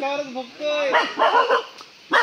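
A dog whines and yips at the start after a jackfruit falls on its head, then barks in a quick cluster, pauses, and gives one more sharp bark close by.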